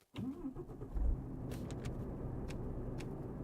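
A truck engine in Euro Truck Simulator 2 cranks over and catches, settling into a steady, close diesel idle that holds to the end.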